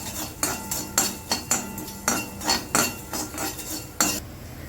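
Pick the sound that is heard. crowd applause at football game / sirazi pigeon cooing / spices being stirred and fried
spices being stirred and fried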